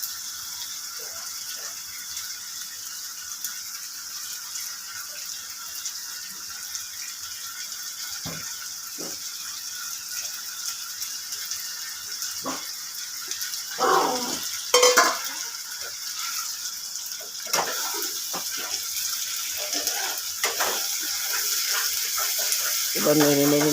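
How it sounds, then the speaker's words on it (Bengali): A spoon scrapes and stirs mashed pointed gourd frying in oil in a pan, with intermittent soft scraping and clatter over a steady sizzle; a voice talks at times. "এবার পটলটা নেড়ে নেড়ে নেড়ে নেড়ে খানিকটা শুকিয়ে নেব।"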